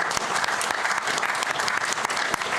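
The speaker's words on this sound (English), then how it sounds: "Please, a round of applause." An audience at a personal-stories event on women's courage and displacement in Wales gives a round of applause, dense, continuous clapping at moderate level with a few sharper individual claps standing out.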